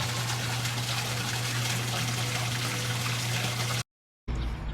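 Steady rushing water at a koi pond on the Cal Poly SLO campus, a constant close wash of sound that cuts out briefly near the end.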